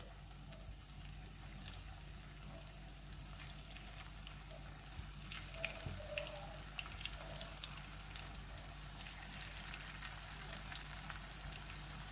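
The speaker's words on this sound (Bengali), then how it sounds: "অবশিষ্ট যে এঁচড়গুলো ছিল সেগুলো আমি ভেজে নিচ্ছি" Pieces of raw jackfruit fry in hot oil with a quiet, steady sizzle and scattered small crackles, faint and close, with no talk over it.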